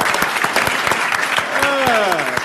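An audience at a health talk on HIV prevention claps steadily throughout, dense close applause with a voice speaking briefly over it near the end.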